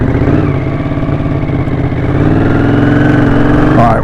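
A 1981 Honda CX500 motorcycle engine running with a spitty, popping exhaust, a loud, close, steady rumble that lifts slightly in revs partway through, heard alone.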